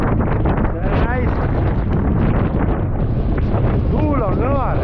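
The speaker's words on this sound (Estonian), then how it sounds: "Tuul on kõvar." Strong gusting wind buffets the microphone aboard a large boat on a stormy fishing day, a loud continuous roar with rushing swells, while people talk over it.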